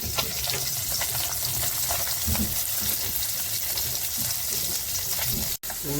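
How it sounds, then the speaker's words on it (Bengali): Fish fries in a pan with a loud, dense, continuous sizzle heard up close, with faint stirring textures underneath and a very brief break just before the end. "মাছটা ভাজা হচ্ছে"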